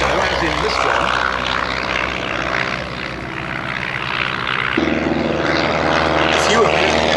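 A Ryan ST-A vintage aerobatic monoplane with a 150-horsepower engine drones steadily at an airshow, its propeller hum loud and sustained, shifting pitch midway as it passes, with voices talking over it.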